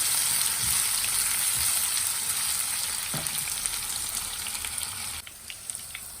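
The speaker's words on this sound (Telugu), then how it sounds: "పొటాటోలు వేగుతున్నాయి" Potatoes frying in a pan for an aloo palak curry give a loud, steady, close-up sizzle throughout, dropping slightly near the end.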